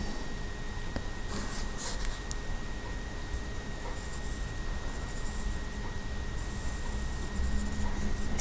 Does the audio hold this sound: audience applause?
no